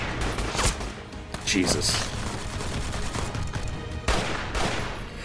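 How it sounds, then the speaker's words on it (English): Bursts of Type 57 Chinese assault rifle gunfire in a Dawn of War 2 video game, sharp loud volleys repeating across the clip with a short exclamation spoken over them. "Type 57 Chinese assault rifle."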